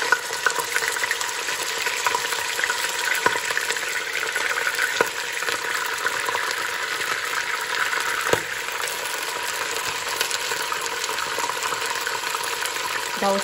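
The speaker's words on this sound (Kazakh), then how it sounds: "Енді соны майға саламыз." Cut meat, washed and chopped, being fried in oil for a simple village potato dish, giving a steady close sizzle and crackle throughout with a few sharp pops, no talking.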